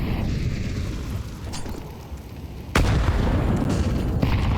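A grenade blast in Counter-Strike during an ESL Challenger League grand-final match: a single sharp, loud burst erupts partway through and then settles into a sustained rumbling roar over steady game ambience.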